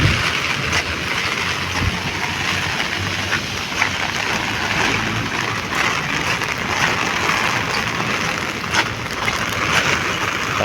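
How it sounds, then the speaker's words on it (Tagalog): Heavy rain pours down at Esplanade, Lawton, a dense, steady hiss of drops on surfaces that holds loud and even throughout, with faint traffic rumble underneath. "Grabe ang lakas ng ulan."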